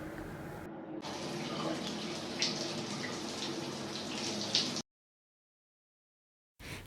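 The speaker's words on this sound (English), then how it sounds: "set the tap for the right lukewarm temperature that I need" Lukewarm water runs from a tap in a steady hiss for several seconds, then cuts off into silence before a brief return of sound at the end.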